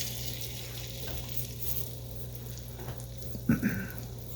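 Steady low sizzle of a floured pork chop frying in hot grease, with a brief louder crackle near the end; no voices.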